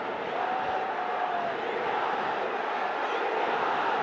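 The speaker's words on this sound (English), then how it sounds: "down to third man, and a roar of the crowd" Steady roar of a large crowd at a BPL 2025 cricket match in Dhaka, a continuous broad wash of cheering that holds level throughout without clear breaks.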